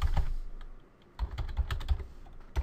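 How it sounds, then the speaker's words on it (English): A password is typed on a computer keyboard at a Windows 8 login screen, close and crisp. A burst of key clicks comes first, then a brief pause and a second run of taps at a steady, moderate pace, with no speech. "we just have to click on the screen here and then type in our password"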